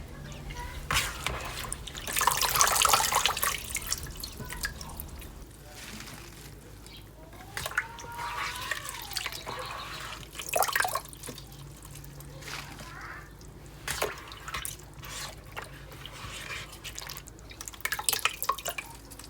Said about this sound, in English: squeeze out all the water, excess water, and put it on the plate